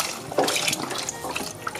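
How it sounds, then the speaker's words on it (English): Vegetable stock poured into a hot pan over a cooked flour mixture to deglaze it for a plant-based Thanksgiving dish, making a steady close splashing, hissing liquid rush that runs throughout with no talk. "I'm gonna deglaze this pan with our veg stock."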